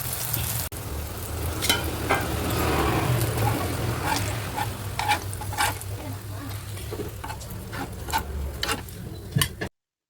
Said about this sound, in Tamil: மசாலா போட்ட கத்திரிக்காய் எண்ணெயில பொரிச்சுக்கலாம்